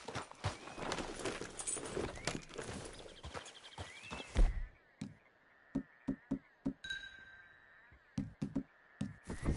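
Horse hooves clip-clop at a walking pace in the video game Red Dead Redemption 2. They start under a dense wash of ambient sound, then come through as distinct, fairly close, evenly spaced hoofbeats over a quieter background with faint insect tones.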